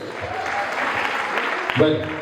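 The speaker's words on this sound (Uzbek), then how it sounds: "Qarsaklaningiz." An audience applauds at an award ceremony for teachers at a training centre on March 8, dense steady clapping close by, with voices mixed in underneath.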